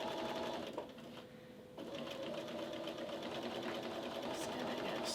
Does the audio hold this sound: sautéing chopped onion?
no